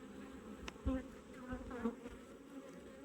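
Honey bees buzz steadily inside a colony late in the season, a continuous close drone with a few brief louder passes of single bees near the hive.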